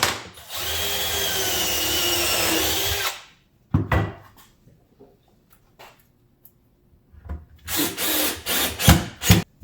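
A power drill drives 1 1/4 inch screws into wood in two loud, close bursts. The first is a long steady whine of about three seconds, then come knocks and handling. A later run arrives in several short, choppy pulses.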